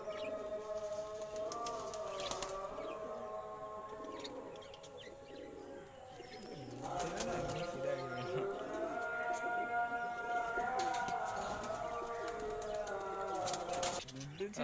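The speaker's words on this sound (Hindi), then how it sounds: "अभी आपको दिखाऊंगा एक रेगदार कबूतर है साबिर भाई के पास।" Pigeons coo softly and repeatedly in a quiet setting, their low warbling calls swelling and overlapping in the second half.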